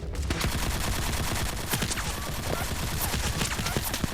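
Energy weapon gunfire in the video game Fallout: New Vegas, a dense, continuous barrage of rapid shots and zaps in a loud firefight with no pauses.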